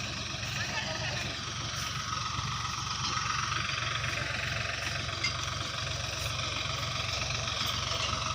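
A three-cylinder Mahindra 655 tractor engine idles steadily nearby, a continuous low chugging rumble with faint knocking, unchanging throughout.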